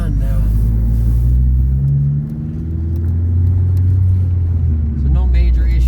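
A 2013 Ford Focus SE engine runs with a steady low rumble, rising slightly as it accelerates after a transmission fluid change, while a person talks over it.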